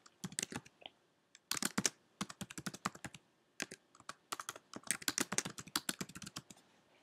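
Keystrokes on a computer keyboard as a folder name is entered, a steady run of close, crisp clicks in quick bursts with short pauses between words, no voice over them.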